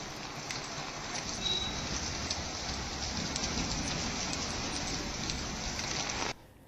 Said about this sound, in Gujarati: અંબાજીમાં કાળા ડિબાંગ વાદળ વચ્ચે વરસાદ છે।